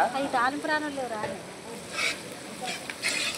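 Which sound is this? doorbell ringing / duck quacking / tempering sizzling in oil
tempering sizzling in oil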